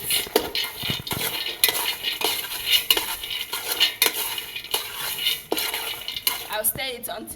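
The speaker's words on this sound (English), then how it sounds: "I'll add the peanuts now. And then I'll stir it." Peanuts roasting in hot garri in a pot are stirred continuously, giving a busy, close scraping and rattling of utensil against metal with frequent sharp clinks throughout, no talk.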